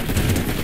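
A short, loud burst of rapid SMG fire in Fortnite, dense overlapping shots filling under a second with no talk.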